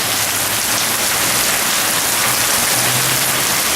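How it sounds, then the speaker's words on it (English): Steady, heavy rain pours down in Florida, a dense, continuous hiss close by with no pauses and no voices. "Well, there's a view of the Florida rain."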